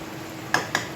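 A lid set onto a cooking pan while fish roe is being prepared, giving three quick, light metallic clinks close by that are spaced a fraction of a second apart over a soft background hiss.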